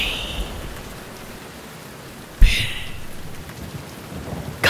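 Steady rain pours down, with a sharp crack of thunder partway through and another rumble starting at the end.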